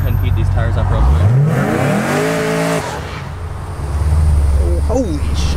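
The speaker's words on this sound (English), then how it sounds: "Let me go ahead and heat these tires up real quick." A Cadillac CTS-V sedan revs hard while heating its tires, the engine note climbing in a rising sweep before it settles. Tire and exhaust noise follows, close and loud, with a voice briefly audible over it.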